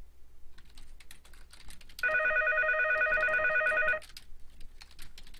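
A telephone rings once in a steady two-second trill, loud and close, set against quiet clicking and rustling before and after.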